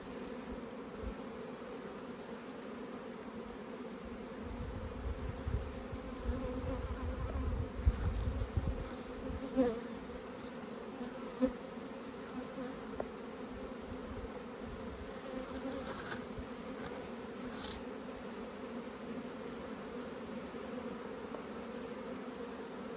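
Honeybees buzz steadily in a dense, close hum, with a few louder bumps and rustles as the frame is handled.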